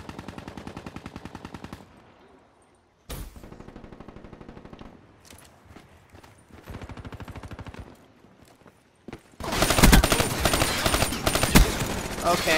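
Rapid-fire gun in Call of Duty: Black Ops III, fitted with fast mags and rapid fire, loosing fast, evenly spaced bursts of shots, then a louder, denser stretch of close automatic fire near the end.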